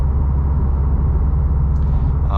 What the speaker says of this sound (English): you could definitely hear the road noise from the wheels